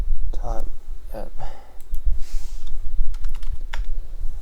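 Rapid clicky keystrokes on a computer keyboard run in short bursts through most of the moment, close and clear, with someone speaking briefly over them at the start.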